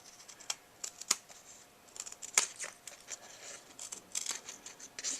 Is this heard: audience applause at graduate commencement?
no